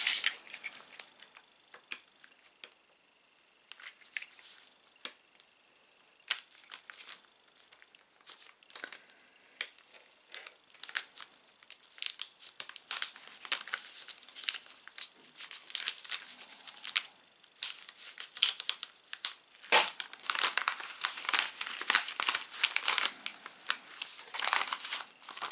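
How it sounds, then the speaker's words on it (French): Plastic bags and packaging crinkling and tearing as parts for an X-Wing model kit are unwrapped, a long stretch of close, busy rustling that grows denser and louder toward the end. "Je vais déballer les pièces en même temps que vous."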